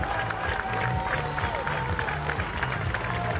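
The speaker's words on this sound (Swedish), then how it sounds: "Stor applåd!" Applause from a crowd at the finish line of the Springtime 2016 race as a home runner comes in, a steady broadband wash of clapping and cheering under faint talk and background noise.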